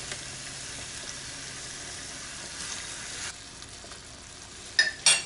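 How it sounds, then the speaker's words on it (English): Peach glazed chicken sizzles steadily in a skillet, a continuous close frying hiss that softens slightly partway through, with a couple of sharp clinks near the end. "Now I'm going to return the chicken back to the pan so that it can finish off the flavors of all this good peach goodness."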